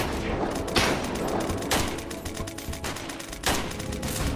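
Gunfire in the video game Unturned during a battle for Yuzhno-Sakhalinsk, with a few loud broadband shot bursts at roughly one-second intervals over a dense, continuous noisy game soundscape.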